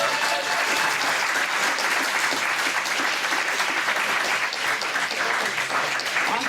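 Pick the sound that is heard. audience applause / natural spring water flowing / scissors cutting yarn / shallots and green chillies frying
audience applause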